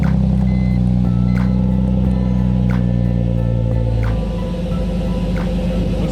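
A K-swapped car's engine idles steadily at close range, a low continuous drone with a slight shift in tone near the end, with no talking.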